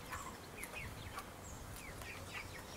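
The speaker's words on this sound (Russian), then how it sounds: "Вот курочка, она сейчас ест." Chickens eat freshly scattered milkweed in a rural yard, giving soft clucks and chirpy calls over a faint, steady background; the sounds are quiet, slightly distant and come in short scattered bursts.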